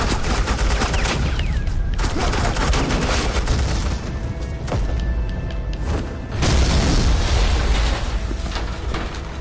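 Heavy sustained gunfire in a Batman video game, dense bursts of automatic fire and booming blasts rolling almost without pause, loud and close, briefly thinning before surging again.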